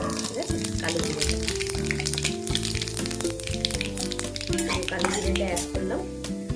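Nigella seeds (kalo jeere) sizzle steadily in hot mustard oil in a pan while a spoon stirs and clinks against the metal, and someone talks over the frying.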